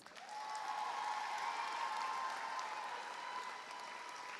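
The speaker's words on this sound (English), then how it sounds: "Let's give them a round of applause." A large crowd at a high school commencement ceremony applauds steadily for several seconds, a soft, sustained wash of clapping heard from a distance, with no speech over it.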